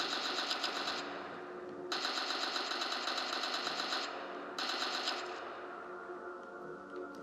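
Three long bursts of rapid rifle fire from a Unity game, each several seconds with brief pauses between, steady and moderately loud with no speech.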